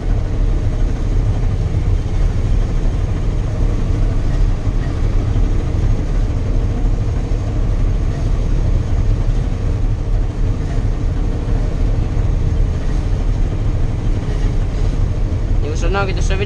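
Combine harvester crawling slowly through a barley field while cutting, a constant loud low engine drone and mechanical rumble throughout, with someone speaking over it.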